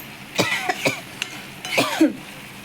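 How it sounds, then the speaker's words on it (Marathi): Several short coughs and throat-clearing bursts from a cook irritated by green chilli fumes while frying chillies and cowpea pods, close and fairly loud, in two clusters with a pause between. "हिरवी मिरची टाकल्यामुळे थोडासा ठसका येतोय"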